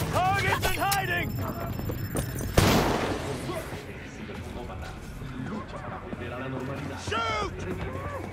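Gunfire in a video game on its hardest difficulty, a sharp shot followed by a crackling burst, heard under frequent shouted talk throughout.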